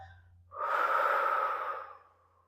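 A single long, forceful exhale during a deep-core stabilization exercise, rising abruptly, holding steady for about a second and a half, then tapering off, close and fairly loud over a faint low hum.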